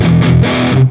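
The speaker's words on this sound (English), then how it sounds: "it really screams with the distortion channel there" Electric guitar played through a germanium treble booster pedal on a distortion channel, a short loud screaming chord with thick saturated sustain, heard alone.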